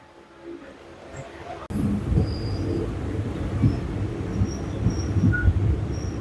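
Passenger train in motion: a loud, steady low rumble with clattering starts abruptly after a quieter opening and carries on continuously, close and enveloping, with faint voices in the background.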